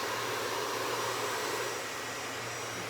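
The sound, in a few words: hair dryer blow-drying hair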